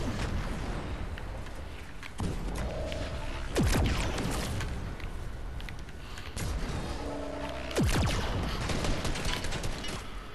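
Fortnite gunfire crackles through a busy match, with bursts of shots and sharp cracks over steady game noise. Two louder clusters of firing stand out, one near the start and one late on.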